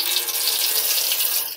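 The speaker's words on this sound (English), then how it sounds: "Let's begin by turning on the water." A kitchen faucet runs for hand washing, giving a steady close splashing rush of water with no voices.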